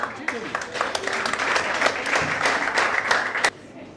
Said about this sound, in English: Nyauri, a hand of applause for Nyauri.